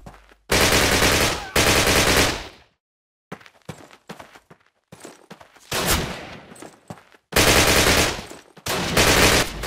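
Loud bursts of rapid machine gun fire from a Call of Duty video game come in long sustained volleys, broken by quieter gaps with scattered clicks and footsteps.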